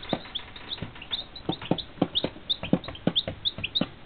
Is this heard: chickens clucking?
yes